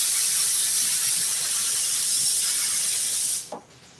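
A spray gun hisses steadily as it coats airplane seat upholstery in an upholstery shop, a loud continuous airy spray that cuts off abruptly near the end, leaving quiet.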